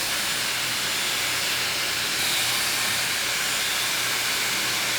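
Hot air streams steadily from a Dyson Airwrap or Shark FlexStyle hair styler during a blowout, a close, continuous hiss with no talking over it.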